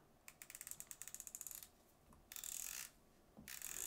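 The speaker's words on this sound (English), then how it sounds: "the drag is clicking type" Drag on a Shimano Curado BFS XG baitcasting fishing reel clicking in a fast, even run of sharp ticks, followed by two longer, smoother bursts of line-pulled drag noise, close and fairly quiet.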